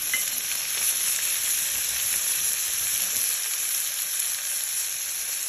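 Eggplant and tomatoes frying in a pan, a steady close sizzle with faint stirring, no talking.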